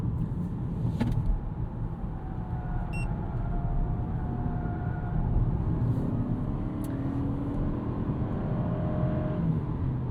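Steady engine and road noise heard from inside the cabin of a 2026 Toyota Camry SE hybrid sedan in sport mode, the engine tone rising as the car accelerates. No one speaks.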